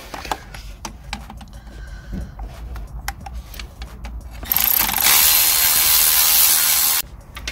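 A ratchet clicks in quick, uneven bursts while loosening a 10 mm bolt from a bracket on a 2007 VW Golf during a coolant pipe job, followed by a long, loud hiss of spray.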